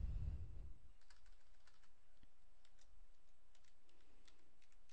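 A computer keyboard is typed on at a quiet desk as a password is entered, giving a short run of soft, close key clicks after a brief low thump at the start.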